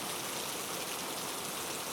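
Steady rain falls without a break, a dense even hiss that sounds close by with no voices over it.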